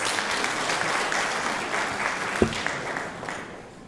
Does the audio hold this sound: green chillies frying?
no